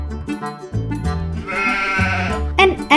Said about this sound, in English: Sheep are domesticated ruminant mammals typically kept as livestock.